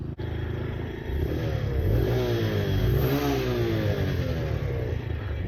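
A 2018 Venom X22 125cc motorcycle engine revs loud and close, its pitch climbing and dropping through repeated gear-like sweeps as it accelerates, with no talking.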